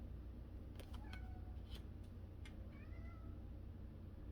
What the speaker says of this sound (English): Sorry if y'all can hear my cat.